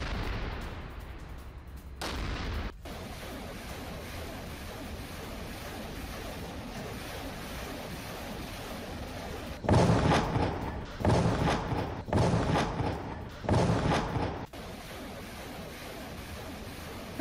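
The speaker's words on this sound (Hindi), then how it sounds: "बॉर्डर एरिया के नजदीक दोनों देशों की शेलिंग हुई है" Artillery shelling near the North–South Korea border: a steady rumbling background, then a run of four or five heavy, booming blasts in quick succession.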